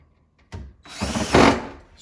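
Power screwdriver driving a screw into a pre-drilled hole to fix a glide-out shelf, a short close whirring burst that rises and strains as the screw seats, then stops.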